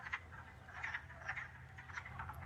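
Frogs croak in a pond, faint and distant, with several short raspy croaks spread over a few seconds above a low background hum.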